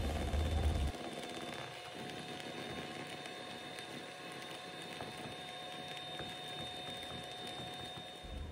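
An electric mixer whirs continuously as it beats cake batter with egg yolks, a steady motor hum with a thin whine, preceded by a brief louder low rumble at the start.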